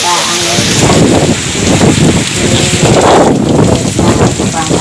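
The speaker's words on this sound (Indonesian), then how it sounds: "terjadi hujan beserta angin kencang" Heavy rain with strong, gusting wind at night in a village in Brebes, a loud, dense roar of downpour and buffeting wind noise filling the whole stretch without pause.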